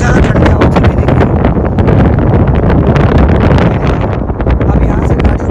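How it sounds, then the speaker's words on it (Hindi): Strong cold wind blowing at an elevated city viewpoint near the Mola Ali dargah in Hyderabad, a loud, continuous roar buffeting the microphone with heavy rumbling gusts throughout. "यहाँ पे कितनी ज़्यादा ठंडी हवा चल रही है।"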